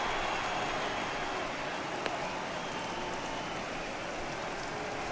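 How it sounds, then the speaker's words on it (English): Steady rain comes down on a baseball field in MLB The Show 18, a faint, even hiss of falling drops with one brief tick partway through and no voices. "we've mentioned the conditions aren't ideal with the rain coming down"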